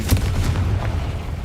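A Confringo fire spell cast in the Hogwarts Legacy video game, heard as a loud, heavy blast at the start that settles into a dense low rumble lasting about a second and a half.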